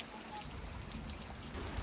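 Rain falls outdoors in a brief, steady patter of drops on surfaces where cattle are being sheltered, soft and continuous.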